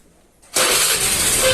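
A Honda Vario Techno scooter's electric starter kicks in and the engine catches abruptly, jumping from near silence to a loud, steady, close-up running noise.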